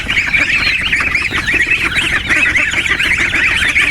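A flock of geese honks loudly and continuously, many overlapping calls close by.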